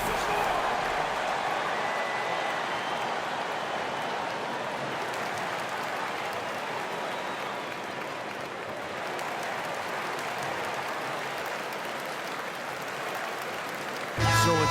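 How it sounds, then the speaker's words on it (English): A large video game arena crowd in NBA 2K26 cheers and applauds steadily, a dense roar of voices that holds for several seconds before dropping off abruptly. "you've got to love hearing a crowd get this fired up"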